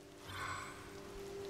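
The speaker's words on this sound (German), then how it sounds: "Es regnet." Steady rain in The Legend of Zelda: Tears of the Kingdom, a faint, even hiss of falling rain with a soft low hum underneath and no talking.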